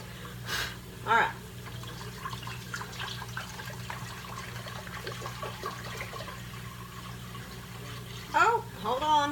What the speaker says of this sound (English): I'm going to go ahead and get my pot full of water.